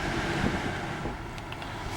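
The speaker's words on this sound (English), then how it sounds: "Let's turn on the air conditioning." Inside a 2009 Cadillac Escalade Hybrid, the air conditioning blows a steady, soft broadband hiss of rushing air with no breaks, quiet and even throughout.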